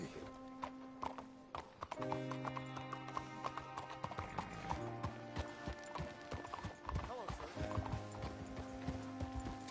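Steady clip-clop of horse hooves at a trotting rhythm in Red Dead Redemption 2, fairly close, under a bed of background music with an occasional whinny.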